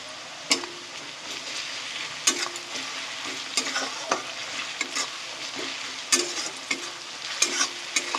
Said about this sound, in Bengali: রসুনটা একটু ভাজা ভাজা হয়ে গেলে আমি আদা বাটা দিয়ে দেবো। একটু ভেজে নিতে হবে যাতে গন্ধটা কেটে যায়।